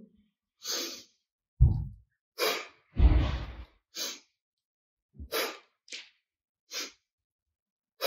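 Breaths out and in during a yoga warm-up: separate breathy exhales and inhales, some sharp and forceful, spaced by pauses of silence, close and clear.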